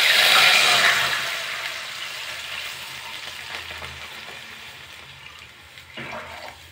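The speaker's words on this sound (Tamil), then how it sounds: "கொஞ்சமாக திராட்சை சேர்க்குறேன், இது நம்ம வறுத்து எடுத்துக்கலாம்." Raisins frying in a pan for macaroni payasam give a loud, broadband sizzle at the start that gradually fades and softens, with a brief stir or clink near the end; no voices.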